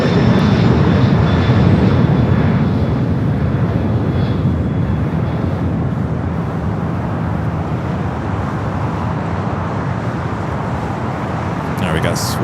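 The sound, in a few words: UPS flight 903 aircraft departing LAX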